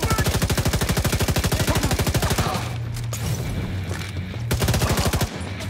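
Rapid automatic gunfire in The Division 2 video game, a fast regular burst of rounds for about two and a half seconds, then a pause with background rumble before another short burst, loud and close.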